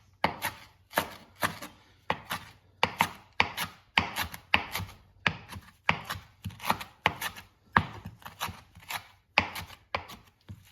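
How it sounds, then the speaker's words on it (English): Cilantro being roughly chopped with a knife on a cutting board, a steady series of sharp, close knife thuds in quick bursts, about twenty-five strokes, with no voices. "Just run a rough chop kind of through the cilantro here."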